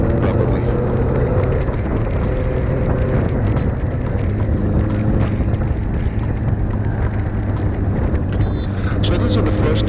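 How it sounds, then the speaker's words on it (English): A Benelli 600i motorcycle on an open road ride, its engine a steady close drone under heavy, continuous wind buffeting throughout. "riding the BENELLI 600 is really giving me the thrill"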